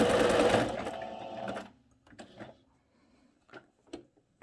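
A sewing machine stitches an appliqué curve in a fast, loud burst of needle chatter, then slows to scattered clicks and taps as the fabric is turned by hand.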